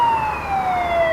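A police car siren wails steadily, its tone gliding slowly downward, loud and close with no talk over it.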